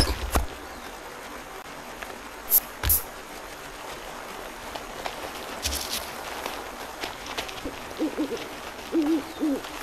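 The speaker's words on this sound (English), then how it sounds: "That owl again." An owl hoots in the medieval action game The First Templar, two short hoots early, then softer hoots later, over a quiet outdoor ambience with footsteps.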